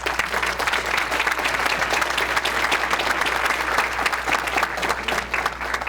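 An audience at an academic conference applauds a speaker being introduced, a dense, sustained round of clapping from a full room that holds steady for several seconds with no voices over it.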